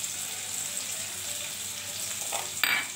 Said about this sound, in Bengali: পেঁয়াজ দিয়ে দিচ্ছি, কুচি কুচি করে পেঁয়াজটা।